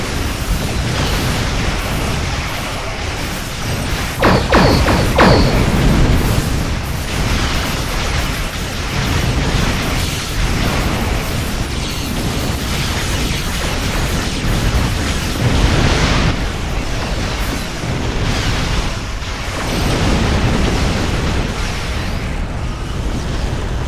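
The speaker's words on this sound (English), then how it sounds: "Got caught in some big explosions there." Big explosions burst out during a space battle in the video game Star Trek Online, a continuous roar of loud booming blasts with sharper bursts around five and sixteen seconds.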